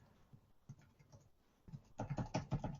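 Login details typed on a computer keyboard, first a few sparse, quiet keystrokes, then a louder, quicker burst of clattering taps toward the end.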